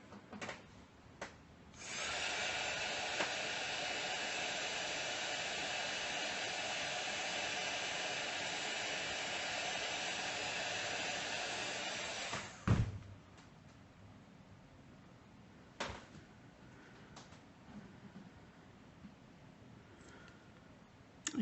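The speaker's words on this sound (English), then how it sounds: "So basically what I'm looking at when I'm doing the heat gun is I'm waiting." A heat gun blows hot air over a stamped butterfly image in a crafting session, a steady loud whooshing roar that runs for about ten seconds and then cuts off, followed by a few faint clicks and handling noises.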